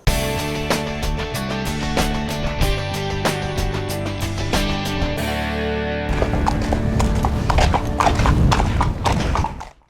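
Racing horses at a stable yard, including a two-year-old filly, with loud rhythmic hoof clip-clops and music running throughout, ending abruptly.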